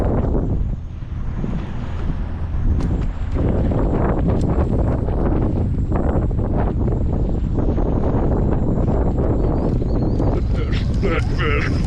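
Strong wind buffets the microphone aboard a fishing boat on the western Long Island Sound, a loud, continuous roar with water and hull noise underneath.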